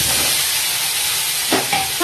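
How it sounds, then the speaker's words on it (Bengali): Eggplant frying in hot oil in a wok, a steady broadband sizzle throughout with a couple of brief clinks or scrapes near the end. "শুধু বেগুনটাকে ভাজার জন্য বসিয়ে দিয়েছি"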